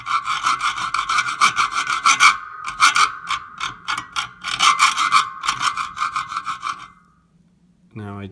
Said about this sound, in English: My hacksaw, and I'm going to clean this up.